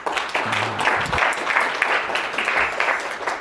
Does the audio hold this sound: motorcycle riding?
no